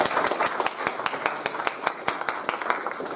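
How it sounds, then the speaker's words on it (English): A small class audience gives a sparse round of applause for student groups, with distinct individual claps ringing out close by in an uneven rhythm. "we just have a round of applause for all the groups"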